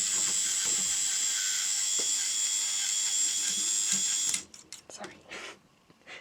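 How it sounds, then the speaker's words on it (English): A homemade K'NEX toy Ferris wheel turns with a loud, steady ratcheting clatter for about four seconds, then stops abruptly, leaving scattered light clicks and a voice. "K'NEX Ferris wheel that I made. It goes round and everything."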